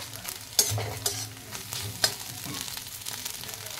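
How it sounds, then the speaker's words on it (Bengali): Egg being scrambled and fried in a wok-style pan, a steady close sizzle broken by several sharp scrapes and clanks of a spatula stirring, with no talking. "এইভাবে আমি ঝুড়ো করে নেব ডিমটাকে কড়ার মধ্যেই।"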